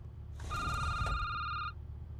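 A single electronic phone ring in a video game sounds close and clear for about a second, a bright trilling tone over a low background rumble.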